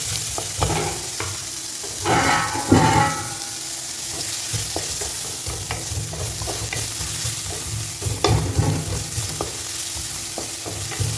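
Tomatoes fry in hot oil in a kadai for restaurant-style kadai chicken, giving a steady close sizzle with repeated scraping and stirring clatters throughout, no talking.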